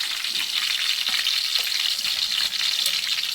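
Garlic sizzles in hot oil as a tempering for chili chutney, a loud, close, continuous crackling fry with faint stirring and no voices.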